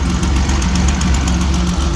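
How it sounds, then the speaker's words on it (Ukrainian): An old 1954 GAZ M-20 Pobeda's 2.9-litre engine idles steadily up close, a low rumbling drone with a slightly uneven, knocking pulse and no voices. "Але двигун працює непогано дуже."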